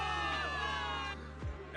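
A crowd of soldiers in Zenless Zone Zero cheering for victory, a dense burst of shouts and whoops that swells briefly and then tails off.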